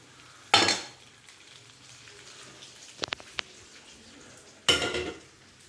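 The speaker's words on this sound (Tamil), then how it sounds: "அதை எண்ணெயில் போட்டு ஒரு 2 நிமிஷம் இதை வதக்கணும்." Ingredients hitting hot oil and being sautéed, two sharp bursts of sizzling a few seconds apart with a few metallic utensil clinks between, over a quiet background.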